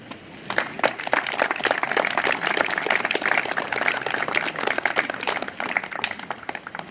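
Audience applause at the inauguration of the Parc de l'Etang in Vernier, a dense, steady wash of many hands clapping throughout, fairly close and loud with no voices standing out.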